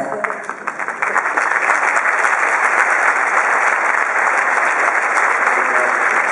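Mountain film festival audience applauding in a hall, loud dense clapping that builds quickly and holds steady throughout.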